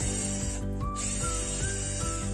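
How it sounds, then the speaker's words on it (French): A 12V Inventiv cordless drill-driver bores holes, its motor whirring loudly in a fast regular pulsing rhythm, close up with rising pitch glides as the bit bites, no talk. "J'ai plus qu'à percer."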